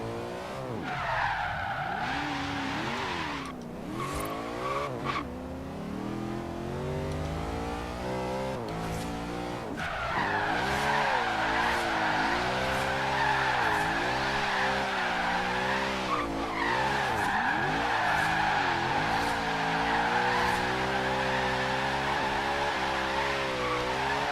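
A Lexus RC F drift build in Forza Horizon 3, with a high-revving engine wailing and rising and falling through gears under long sustained tire squeals as the car slides, loud and continuous with no talk.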